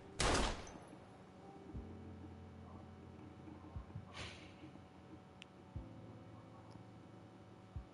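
A gunshot in the video game Life is Strange: one sharp, loud blast at the start, then a quiet humming background with a few faint low thuds.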